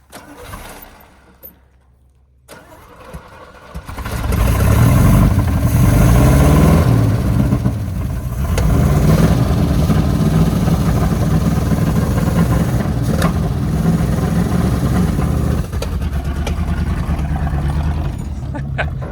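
Old junk car's engine cranks briefly, then catches and roars to life, settling into a loud, rough, steady idle up close that keeps running for the rest of the clip.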